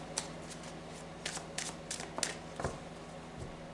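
Tarot cards being shuffled in several short riffling bursts, close and fairly quiet, with no talking.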